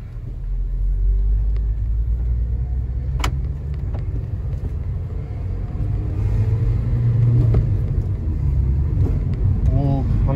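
A 2008 Honda Civic Si Mugen sedan with a manual gearbox, driven on the road, gives a steady low engine rumble with a slight rise in pitch near the end, under wind noise and cabin noise.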